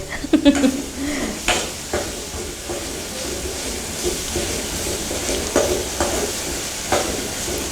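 Curry leaves frying in a little oil in a pan for a curry-leaf rice dish, a continuous soft sizzle with scattered scrapes and clinks of a spoon stirring, close by.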